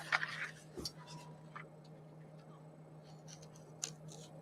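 Scissors cutting a piece off a journal craft project, a few quiet snips and rustles close by with a low steady hum underneath.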